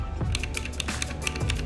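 Keys clack on a Gigaware K550 mechanical keyboard with blue switches, a quick, crisp, clicky flurry of presses close to the listener.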